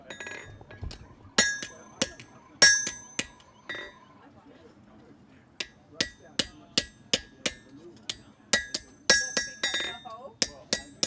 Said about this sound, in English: I'm going to try to be fancy and back forge it. So we forge the corners